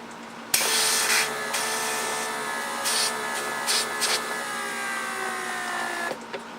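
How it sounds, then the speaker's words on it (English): A steady hissing rush of air leaking from the vacuum circuit of a 1999 Mercedes S320 door lock pump runs continuously with a few faint shifts in tone, close and fairly loud, no voices. "that's the leak in the vacuum circuit."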